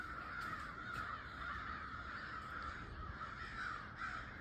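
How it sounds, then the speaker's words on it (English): A big flock of a couple hundred crows caws from trees outdoors, scattered harsh calls overlapping at a moderate distance above a steady background hum, no talking. "A couple hundred crows just flew in over here."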